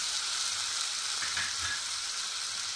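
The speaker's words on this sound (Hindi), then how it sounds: "अब मैं मसाला भूनने जा रही हूँ कढ़ी के लिए।" Soft, steady sizzle of cumin, turmeric and coriander powder frying in oil for kadhi in a home kitchen, faint and close with no talk.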